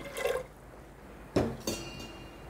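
Water pours into a pressure cooker holding washed black urad lentils, heard as a brief splash, then two short gushes of pouring, faint and close with quiet between.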